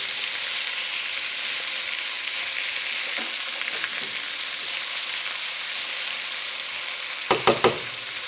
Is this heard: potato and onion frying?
yes